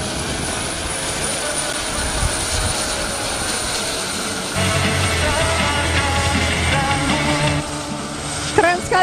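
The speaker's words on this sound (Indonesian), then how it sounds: "bisa kita lihat baru saja melintas di hadapan kita ketiga helikopter" Three helicopters from the Pegasus display team of Skadron Udara 7 fly past at an air force display, with a steady rotor and engine roar that swells louder midway through.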